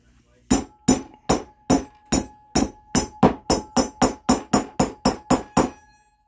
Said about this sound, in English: Take our handy dandy hammer.